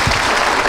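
A brief burst of loud, close applause from an audience honoring a guest lecturer at an industry talk, dense clapping filling the short moment.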